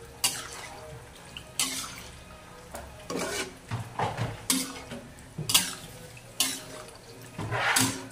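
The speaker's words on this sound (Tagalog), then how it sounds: "lagyan natin ng sabaw mga guys. Halu-haluin" Broth splashes into a pot of chicken tinola as a spoon scrapes and stirs, with irregular sloshing bursts and clinks close by; no talking.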